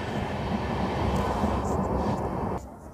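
A train at Moula Ali station near Secunderabad gives a loud, steady rumble that fills the scene and cuts off sharply near the end.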